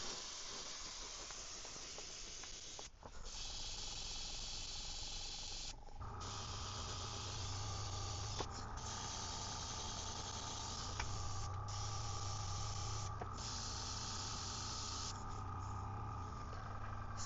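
Steady airbrush hiss sprays paint continuously onto a 3D-printed fishing lure, with brief pauses and restarts every few seconds, over a low background hum.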